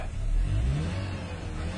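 A 1997 Ford car with hard-starting and rough-idle trouble runs with a steady low engine rumble, close and continuous, with a slight uneven throb and no talking.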